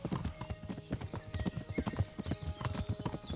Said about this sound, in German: Aber reiten wir einfach mal weiter mit.